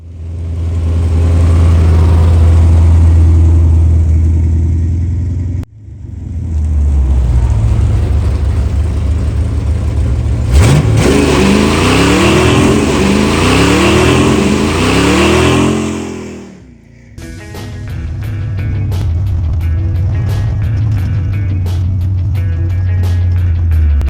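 An older car's engine runs steadily on a short test drive after tuning work, loud and close, with revving and gear changes partway through and a brief drop in the middle.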